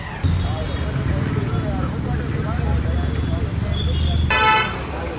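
An auto rickshaw engine runs steadily in busy road traffic, with a bright horn toot near the end and people talking over the engine noise.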